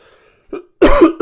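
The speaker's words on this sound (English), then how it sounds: "I'm still getting over this cough" A short throat sound followed by a loud, harsh cough up close, then the start of another cough.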